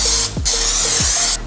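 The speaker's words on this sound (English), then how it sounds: "First, I'm gonna spray this dish down." Two loud bursts of aerosol cooking spray hiss close by onto a baking dish, separated by a short pause, with a faint mechanical click at each press.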